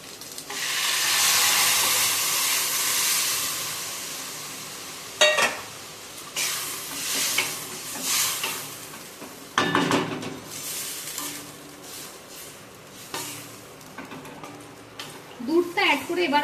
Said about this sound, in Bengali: এবার এর মধ্যে আমি দুধটা অ্যাড করে দেব।